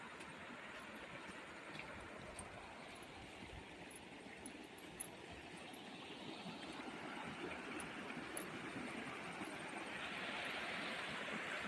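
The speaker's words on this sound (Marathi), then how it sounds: "खूप असा आवाज येतो धबधब्यासारखा" Water from a stream rushing loudly like a waterfall beside a farm house, a dense, steady roar that swells slightly toward the end, with no voices.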